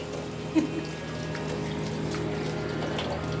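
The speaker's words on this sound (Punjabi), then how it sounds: "ਬਰਤਨ ਵੀ ਤੁਹਾਨੂੰ ਪਤਾ ਬਹੁਤ ਜ਼ਰੂਰੀ ਹੈ ਧੋਣੇ" Dishes being washed at a home kitchen sink under a steady stream of tap water, a continuous close rush with a faint clink early on and no talking.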